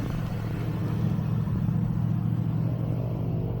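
A Bentley Arnage engine rumbles steadily at close range, a deep continuous low drone with no breaks or sharp revs, heard alone without talk.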